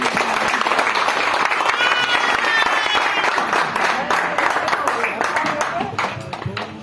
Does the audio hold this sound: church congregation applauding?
yes